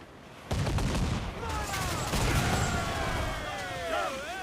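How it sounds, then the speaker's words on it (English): Ship cannons fire in Assassin's Creed IV as a heavy boom bursts in and then rumbles on beneath shouting crew voices, with whistling projectiles streaking through the din. "Cannon ready! Fire!"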